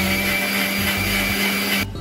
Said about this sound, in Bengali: ব্লেন্ড করে নেব।